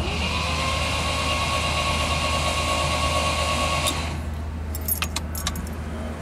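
The engine of a 1970 MGB GT is cranked over with a steady, whirring starter drone that cuts off abruptly, followed by a few light metallic clinks, all close to the microphone.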